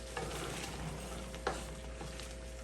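A spoon stirring boiling Guyanese fudge in a pot, giving a faint, steady bubbling sizzle with a few soft scraping clicks.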